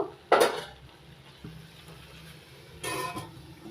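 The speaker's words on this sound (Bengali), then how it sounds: "ভালো করে সব কিছু একসঙ্গে ভালো করে মিশিয়ে নিয়ে এবার একটু ঢাকা দিয়ে দেব" A prawn and taro leaf curry is stirred in a pan and then covered with a lid: a sharp metallic scrape and clatter up front, a quiet stretch, then another clink of the lid near the end.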